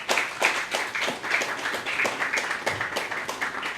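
An audience at a Haitian photography conference applauds as speakers arrive: steady, dense clapping from many hands filling the room, fairly close and even in level, with no voices over it.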